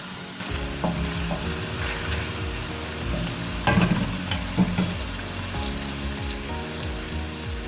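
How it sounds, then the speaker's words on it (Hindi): Beef karahi masala with crushed red chillies, coriander powder and salt is fried in a pan. It sizzles continuously under repeated clattering stirs and scrapes of a spoon against the pot, heard up close with no speech. "मसाला डाल के अब हम इसको अच्छे से भूनेंगे"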